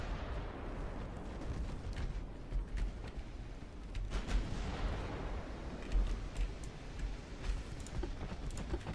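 Battleship guns fire in the naval combat game Ultimate Admiral Dreadnoughts, a low rumbling barrage of muffled booms that rolls on continuously at moderate distance, with no talk over it.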